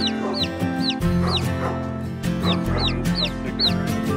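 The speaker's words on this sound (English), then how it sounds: "Is he chirping?" Small chick cheeping in repeated short high chirps, roughly six quick calls, close and clear over a steady low background hum, with no talk.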